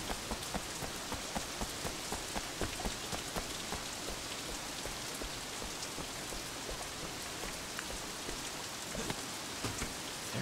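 Steady rain falls in the video game Sleeping Dogs: Definitive Edition, a dense hiss of drops pattering on surfaces that continues evenly and unbroken throughout, with no talk over it.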